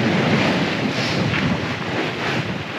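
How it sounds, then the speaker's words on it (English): Strong, steady wind at sea on a sailing passage from Samoa to Tonga, roaring and buffeting close to the microphone, with a broad rushing noise and no voices. "it's been pretty windy"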